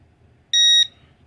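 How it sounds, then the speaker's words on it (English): A fire alarm buzzer on a light-sensor demo setup, set off by a flashlight shone over the sensor, gives one sharp, loud electronic beep lasting about a third of a second, then cuts off to near silence. "the fire alarm turns on."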